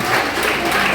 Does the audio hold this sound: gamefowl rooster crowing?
no